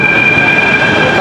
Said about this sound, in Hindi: चलो एक ट्रेन तो आ गई मेट्रो।